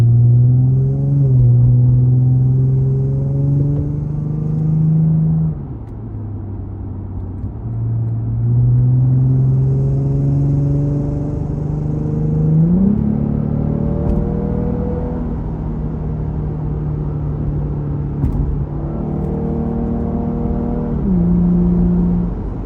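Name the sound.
Lexus IS300 with axle-back exhaust, heard from interior while driving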